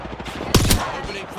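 Automatic weapon fire in the Apex Legends battle royale game: a loud, brief burst of rapid shots in the middle of a busy mix of game sound and background noise.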